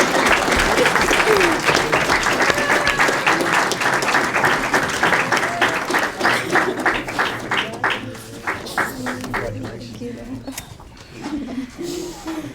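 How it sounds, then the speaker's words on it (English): A crowd applauds a high school cross country athlete at her letter of intent signing, steady clapping that gradually thins and fades toward the end, with faint voices underneath as it dies down. "let's give a round of applause for Miss Shanya Luna, LSU Cross Country"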